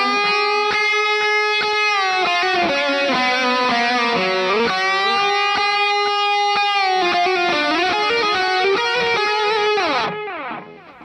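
Electric guitar played through a Sonicake Matribox II multi-effects unit with a delay effect, sustained melodic notes and chords ringing with echoing repeats, loud and steady, the trails fading out at the end.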